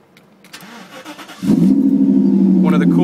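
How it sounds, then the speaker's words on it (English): A Mercedes-Benz SL500 Koenig starts up close by: a brief crank, then the engine catches and settles into a loud, deep, steady idle, with a voice talking faintly before it. "one of the coolest things about this car is the way it sounds."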